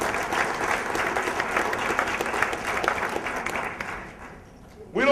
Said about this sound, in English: That's right, that's an applause.